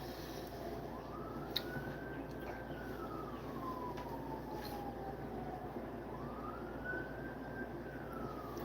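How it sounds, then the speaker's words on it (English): Distant emergency vehicle siren wailing in a slow rising and falling sweep, repeating twice over steady background noise, with no talk. "I hear sirens."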